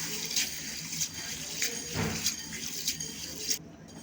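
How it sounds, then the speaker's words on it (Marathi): Mung beans being rinsed in water in a large bowl in a home kitchen, soft splashing and swishing with a few brief pours and drips, faint and close, no talking. "पाणी टाकून ना याला दोन पाण्यानं धुवून घ्यायचे"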